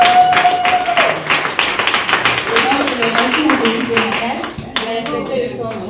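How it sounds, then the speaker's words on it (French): Audience clapping at a testimonial gathering, loud and dense with scattered sharp hand claps, while voices talk and call out over it throughout. "On l'applaudit."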